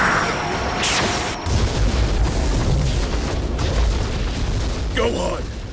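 A loud, sustained roaring blast of an animated Dragon Ball Special Beam Cannon energy attack, with crackling rumble that holds for several seconds before tapering slightly.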